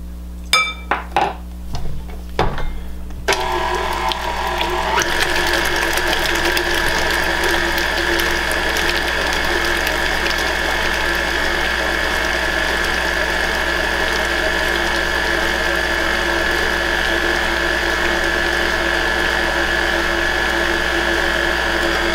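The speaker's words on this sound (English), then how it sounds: "I'm going to beat this until it's smooth and creamy" An electric mixer beats cookie dough with sugar in a bowl, starting with a few clinks and rattles before settling into a loud, steady mechanical whir with ratcheting, clattering texture that runs uninterrupted.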